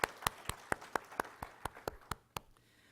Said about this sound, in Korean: 우리 하나님 앞에 감사의 박수 드리겠습니다.